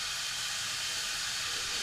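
Onions and garlic sizzle in hot olive oil in a pan for spaghetti and meatballs, a loud, steady, close hiss of frying that carries evenly throughout without any voices.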